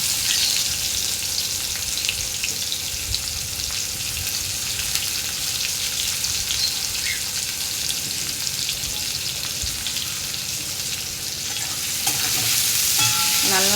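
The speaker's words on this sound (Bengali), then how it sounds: "লাল লাল করে পেঁয়াজগুলো আমি ভেজে নেব।" Onions and cumin fry in hot oil, a loud, close, unbroken sizzle with stirring noises running throughout, no voices over it.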